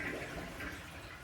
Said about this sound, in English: we're going to flush a couple more times.